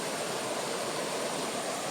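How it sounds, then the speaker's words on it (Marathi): A river flows beside the Vyaghreshwar temple at Asud in Dapoli taluka, giving a steady, even rush of water. The sound is fairly soft and unbroken, with no voices. "तो जो विठोबा सामल बापूचा पिता तो जिथून पाणी भरायचा व्याघ्रेश्वरासाठी ती ही नदी"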